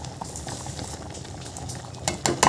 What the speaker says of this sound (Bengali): আমার ডাল ফুটে গেছে